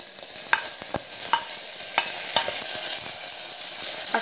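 Onions frying in a pan for a Kannur-style fish curry as tomato goes in, with a loud continuous sizzle punctuated by repeated sharp spoon scrapes and knocks against the pan.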